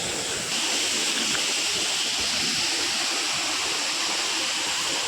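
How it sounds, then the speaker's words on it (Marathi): River water flowing at night during the rainy season, a steady, loud, broadband rushing roar with no breaks, close by and unaccompanied by talk. "नदीवरती आलो आता आम्ही आणि पाण्याचा आवाज येत असेल"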